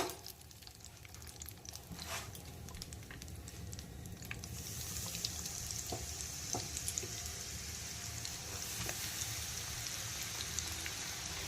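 Coated chicken drumsticks deep-frying in hot oil, a dense continuous sizzle that grows louder partway through as more pieces go in, with scattered pops and crackles and no voices.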